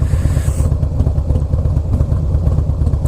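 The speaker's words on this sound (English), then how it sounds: "The sound is inspiring, and the big old rumble, but the actual turnover wasn't a blast." A Harley-Davidson Fat Boy S motorcycle engine catches after a brief start-up whine and settles into a loud, steady, close low rumble with a lumpy idle pulse.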